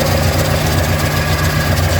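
A Morris Minor car engine idles steadily with a deep low rumble and even vibration, running smoothly and close by for the whole stretch, with its gauge removed and a blanking plate fitted and the exhaust freshly resealed.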